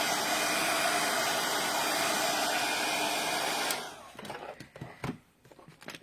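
A hair dryer blows steadily and loudly on a craft notebook page, a dense whooshing drone that cuts off after nearly four seconds, followed by quiet handling clatter.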